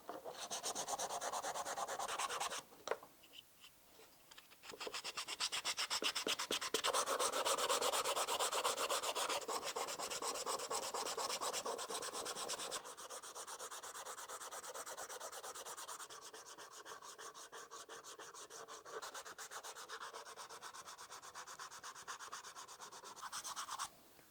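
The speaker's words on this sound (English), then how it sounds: "Using our sandpaper, we're now simply going to smooth off the edges." Steady rasping of sandpaper smoothing the edges of a wooden knife sheath, close and continuous, with a brief pause early on and slightly softer strokes toward the end.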